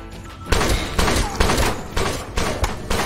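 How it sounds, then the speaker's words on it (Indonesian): Rapid, brutal bursts of gunfire, loud repeated shots in quick succession with heavy booming impacts. "menghujani Spicy dengan tembakan secara brutal"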